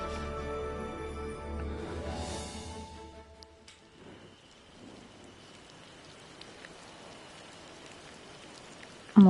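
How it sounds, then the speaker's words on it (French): Steady rain from the video game Disney Dreamlight Valley, a continuous wash of patter, with a short musical or tonal passage at the start that then gives way to the rain alone. "On entend la pluie mais il n'y a pas le jeu."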